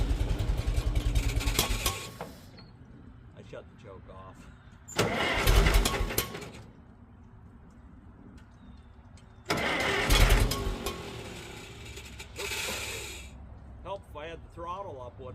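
A Farmall Super M-TA tractor engine cranks and tries to catch in several loud bursts, run on a little choke, with quieter rumbling stretches in between and someone talking in the pauses.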